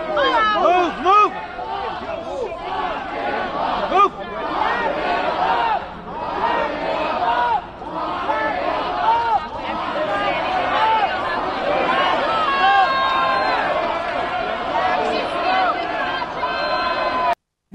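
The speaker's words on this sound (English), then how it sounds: "Stone, by the way, leaving the courthouse on the day of his arrest to chants of "lock him up" from the crowd" Outside a courthouse on the day of Roger Stone's arrest, a large crowd chants "lock him up" in loud, sustained, rhythmic shouting mixed with scattered yells and commotion.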